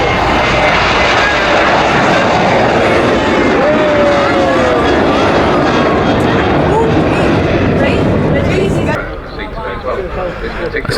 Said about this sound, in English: It's a beautiful Boeing 757 coming into land here.